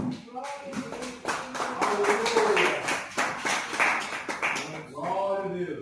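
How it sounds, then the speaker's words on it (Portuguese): A church congregation applauds in a rapid, sustained patter of many hands clapping, with voices speaking and calling out over the clapping. "Pode dar aplauso para o nosso Deus."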